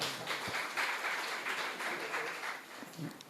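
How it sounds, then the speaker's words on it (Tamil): Applause from a modest audience at a Tamil poetry recital honouring Kannadasan, a soft, steady patter of clapping that holds for a few seconds and thins toward the end, with no voices over it. "உங்கள் கரகோஷத்தையும் தாருங்கள்."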